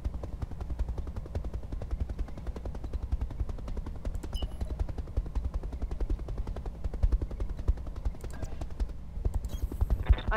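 Sustained, rapid machine gun fire in the BattleTech mod Roguetech, a steady rattling burst running the whole time at moderate loudness with brief higher clanks layered over it.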